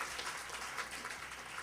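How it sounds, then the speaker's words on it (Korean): A church congregation applauds in a quiet, steady wash of many hands clapping, distant and continuous from start to finish. "하나님께 영광의 박수를 다시 드리겠습니다"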